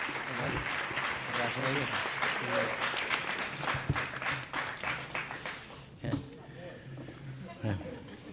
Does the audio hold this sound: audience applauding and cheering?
yes